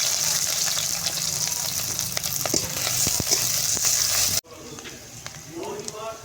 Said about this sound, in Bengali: তেল গরম হয়ে গেছে, কাঁচা লঙ্কা দিয়ে দেবো, সর্ষে দিয়ে দেবো, পেঁয়াজ দিয়ে দেবো, কুচিয়ে রাখা পেঁয়াজ